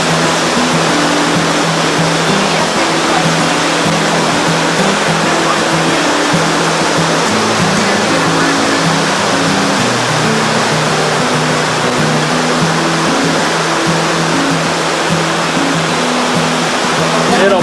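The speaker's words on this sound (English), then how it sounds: "It'll blow by, but it is pouring." Heavy rain pours down on open water during a summer sailing regatta, a loud continuous hiss with a steady low drone underneath, unbroken from start to finish.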